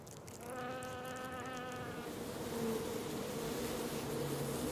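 Wasps buzz steadily close by, one drone with clear harmonics fading out midway while a denser, lower hum carries on underneath.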